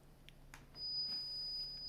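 A steady 5,000 hertz sine-wave test tone from an online tone generator on a laptop starts partway in and holds faint and unbroken to the end, with a few soft clicks before it.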